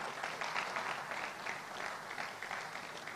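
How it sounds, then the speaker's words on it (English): An audience at the closing of a career development conference gives a short burst of applause, with even, fairly faint clapping heard from a distance. "A round of applause for all of us,"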